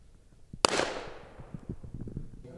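A single sharp gunshot at a shooting training range cracks loudly, followed by a long echoing decay with faint clatter and shuffling afterward.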